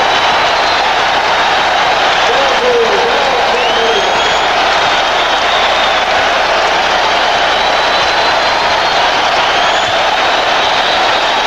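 A basketball arena crowd in Chicago roars steadily for Michael Jordan and the Bulls against the Knicks, a loud, sustained wash of cheering and applause with commentators talking underneath.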